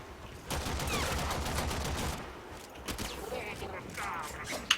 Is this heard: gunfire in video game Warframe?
yes